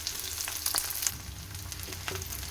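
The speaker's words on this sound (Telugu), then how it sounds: "ఇప్పుడు ఆనియన్ ముక్కలు వేసేసుకోవాలి వేసి ఫ్రై చేయాలి" Chopped onion pieces frying in hot oil with garlic cloves for a red chilli chutney, giving a steady close crackling sizzle with a few sharper pops and no talking.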